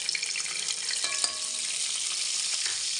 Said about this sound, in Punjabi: ਤੇਲ ਆਪਣਾ ਚੰਗੀ ਤਰ੍ਹਾਂ ਗਰਮ ਆ, ਇਹਦੇ ਵਿੱਚ ਹੁਣ ਆਪਾਂ ਲਸਣ ਐਡ ਕਰ ਦਿੰਦੇ ਹਾਂ।